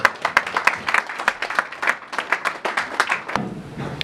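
A church congregation claps in quick, uneven rhythm for about three seconds, sharp close hand claps forming steady applause, then it drops away into a brief murmur.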